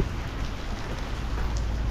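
Steady, dense rainfall pours down without pause in Finland, a continuous heavy hiss of drops striking surfaces close by.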